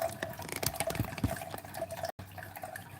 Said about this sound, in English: You can hear the water flowing